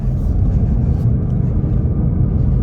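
Engine of a 2024 Mustang GT with manual transmission and active exhaust on a narrow wooded mountain road, heard as a steady, loud low rumble from inside the car, with no distinct shift break.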